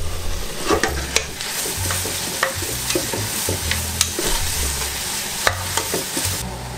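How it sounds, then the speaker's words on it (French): Onions cooking in melted butter for French onion soup, a continuous soft sizzle punctuated by sharp, irregular scrapes and knocks of a spoon stirring the pan, with no talking. "Je vais alors y ajouter mes oignons. Et là, on va faire compoter une dizaine de minutes sur feu doux."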